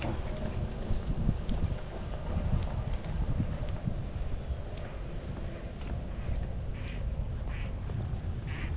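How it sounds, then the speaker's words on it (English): A duck quacks a few times on the shore of Lake Marion, heard faintly and at a distance under steady wind noise and outdoor rumble. "There goes that duck."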